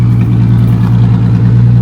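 A Ford Mustang's engine rumbles loud and close, a deep steady idle pulsing through an exhaust that seems to dump somewhere under the car, with no talk.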